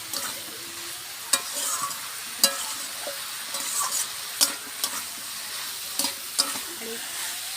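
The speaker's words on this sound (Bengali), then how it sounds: "দিয়ে এবার এটা আমি ভালোভাবে কষে নেব। ভালো করে আমি কষবো।" Onions with a little salt cook down for a fig-and-onion curry, a continuous sizzle broken by sharp, regular spatula scrapes and knocks against the pan, close and fairly loud.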